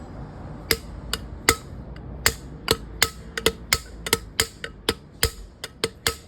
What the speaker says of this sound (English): You want to hit the inner race and not the outer one, otherwise you're going to damage the bearing